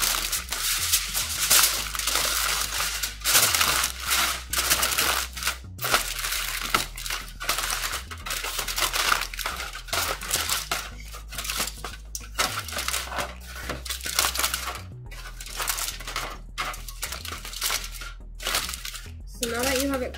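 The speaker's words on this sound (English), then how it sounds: "you grab your long strip of aluminum foil. You want to make sure it goes all the way around your head, and you're going to crumple it up." A long strip of aluminum foil being crumpled up by hand, giving continuous crinkling and crushing noise over about twenty seconds, close and fairly loud, with brief pauses between bursts and a low steady hum underneath.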